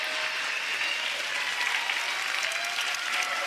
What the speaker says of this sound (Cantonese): 掌聲都屬於今日嘅勝方標準流浪啊